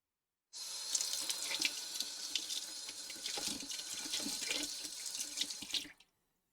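Tap water runs steadily into a sink while a coffee grinder is washed, a close, continuous splashing flow that starts abruptly, holds for about five seconds and cuts off.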